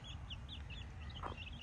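Young Brahma chicks peeping in a brief series of high, thin chirps over a low background hum, faint and somewhat distant, with no talking.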